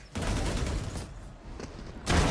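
Gunfire from an esports match between G2 and FYLV, a short burst of rapid shots at the start followed by a lull and another loud volley near the end, with no talk over it.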